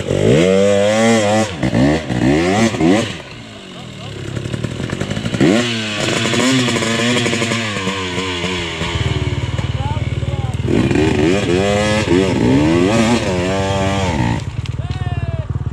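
A Beta X Trainer 300 dirt bike on a hot Texas enduro trail revs and labors uphill as the rider feathers the clutch, its loud raspy two-stroke engine rising and falling in repeated surges up close, with a short lull partway through.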